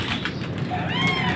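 A cat gives a short, fairly close meow with a rising whine toward the end, over a low background hum.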